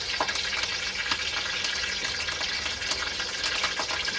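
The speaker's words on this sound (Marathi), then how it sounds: "मोहरी पण टाकली त्याच्यामध्ये. तेल एकदम उडतंय फटाफट." Mustard seeds and curry leaves splutter in hot oil in a pan while vada pav is being made, giving dense, continuous crackling and sizzling with sharp pops scattered throughout. It is close and loud, with no voices.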